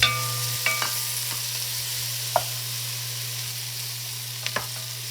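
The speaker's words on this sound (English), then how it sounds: "Going to get them all stirred together really well." Celery and mushrooms being stirred together in a pot while making beef stew: a few scattered scrapes and clinks of the spoon over a steady low hum, with no voices.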